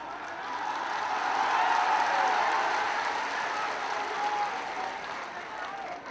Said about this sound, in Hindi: ये देख रहे हैं तालियों की गड़गड़ाहट